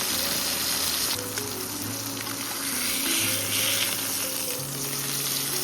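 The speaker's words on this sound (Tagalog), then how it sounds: "Yung tunog pa lang habang niluluto." Steady, dense sizzling and crackling of food frying in a hot pan, continuous and fairly loud, with no voices.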